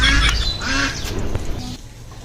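A duck quacks repeatedly in a run of loud, raspy squawks close by, with the calls tapering off toward the end.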